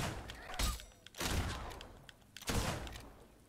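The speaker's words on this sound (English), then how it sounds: "Watch out, we're under fire!" Gunfire in the video game Fable 2 sounds as three loud bursts of shots, evenly spaced with quieter gaps between, heard in-game without talk.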